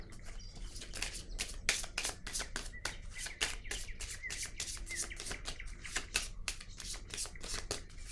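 Playing cards are shuffled and drawn for a tarot-style card reading, giving a steady run of quick, close riffling snaps and flicks that continue throughout with no talking over them.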